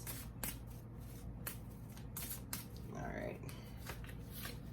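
Tarot cards being shuffled by hand, a soft riffling and flicking of card stock in several quick bursts, close and fairly quiet, with a low steady hum beneath.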